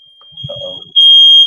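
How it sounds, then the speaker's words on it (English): A smoke alarm beeps with a steady high-pitched electronic tone, first faint and then loud and continuous, while people talk briefly at a watch party over a football game. "Setting off the alarm."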